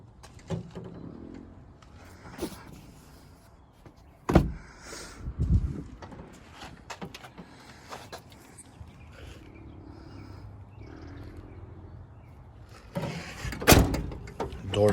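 A 1990 Ford F350 XLT Lariat pickup with a 7.3 diesel has its door shut with a few soft thuds and clunks. The sounds are quiet, spread over a stretch of faint background noise and murmuring voices.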